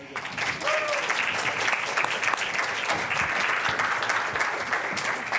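Audience applause at a spring communication forum, a dense, steady wash of many hands clapping at fairly close range, sustained evenly for several seconds with no clear talk over it.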